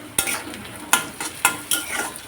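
Asafoetida dropped into hot tempering oil with white urad dal, followed by onions frying in the pan; several sharp sizzling bursts with stirring, close and fairly loud, no talking.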